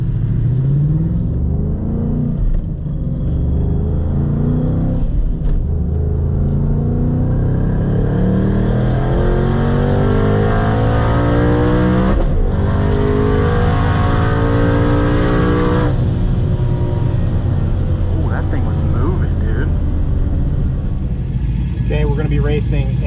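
A turbocharged Mustang with a manual gearbox revs hard while racing, its engine climbing through the gears in a loud, continuous roar. The pitch sweeps up repeatedly with brief dips at the shifts and never lets up.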